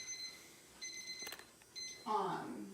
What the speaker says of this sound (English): That timer was for our turkey